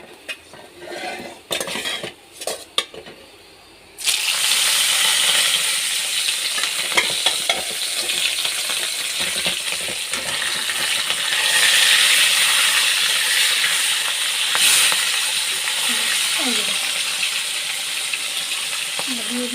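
A rohu fish head drops into hot oil in a pan and sets off a loud, continuous sizzle that lasts to the end, with spatula stirs and clinks over it. Brief knocks and handling sounds come just before.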